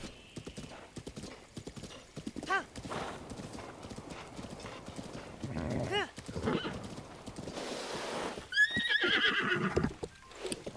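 Horse in Zelda Breath of the Wild, rhythmic clip-clop of hooves with a few whinnies and neighs, moderately quiet under game music and a voice talking.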